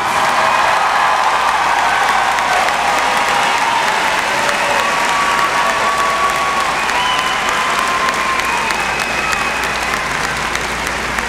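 A high school graduation audience bursts into sustained loud applause, dense steady clapping from a large crowd that carries on evenly for the whole stretch with faint cheering mixed in.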